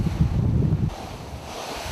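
Rough sea in the East China Sea pounds around a 500-ton ocean research vessel, with a heavy roaring wash of waves and buffeting wind noise, loud and continuous.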